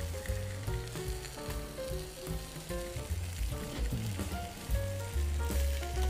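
Vegetables sizzle on a Camp Chef griddle in a steady frying hiss, heard under a strong melodic music track that dominates the mix.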